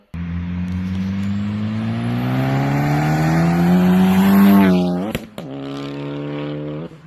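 A Ford Focus ST fitted with a 7163 EFR turbo revs hard: a loud, rising engine drone climbs over several seconds, then drops with a sharp turbo blow-off burst before settling into a lower idle.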